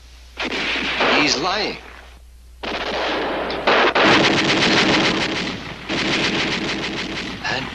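Rapid gunfire and artillery bursts from a 1967 TV war series, loud and dense, coming in long sustained volleys with brief pauses, while voices speak over the early part.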